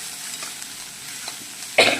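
Saag greens frying with garlic in a pan give a soft, continuous sizzle with light stirring scrapes, ending in a louder burst of crackle near the finish.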